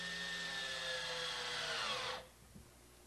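Power drill whirring steadily as screws are driven into a boat's mid bulkhead, a loud continuous buzz that cuts off abruptly near the end, followed by a faint knock.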